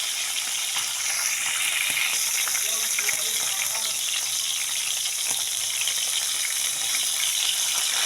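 Pork bistek sizzles and fries steadily in a pan, a dense, continuous hiss that holds at an even level throughout with no voices.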